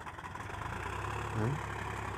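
A truck engine hauling a 10-ton load across a field in high gear gives a steady low rumble throughout, with a brief strain rising near the middle.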